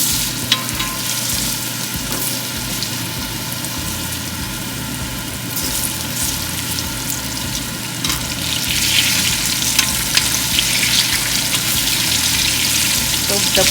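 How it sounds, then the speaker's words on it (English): Potatoes sizzle and fry in a pan with leftover wagyu beef fat, a steady loud crackling hiss with stirring scrapes, growing a little busier toward the end. "Now I'm going to cook the potatoes."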